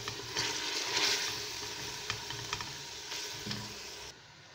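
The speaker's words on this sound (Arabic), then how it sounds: "راهو يتقلى" Chopped onions frying in hot oil in a home kitchen pan, giving a steady, dense sizzle with a few sharp clicks and scrapes of stirring. No one speaks.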